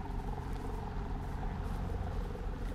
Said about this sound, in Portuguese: Estão ouvindo o barulho do helicóptero?